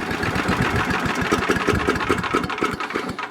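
A chipper shredder's small petrol engine running steadily near the listener, with a loud, rough chugging throb that is slightly uneven and has no talk over it.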